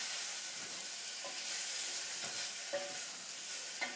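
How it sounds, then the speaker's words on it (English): Pasta and bacon bits being stirred in a hot pan for carbonara, a soft continuous sizzle with a few light scrapes and clicks of the utensil, quiet and close. "Stir it up so that the bacon bits are mixed up with the pasta."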